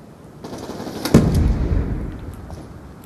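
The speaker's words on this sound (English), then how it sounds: "Someone's shooting at me too." Video game gunfire erupts in a short rapid automatic burst of sharp cracks, fairly close and loud, with a few lighter scattered shots trailing off afterward.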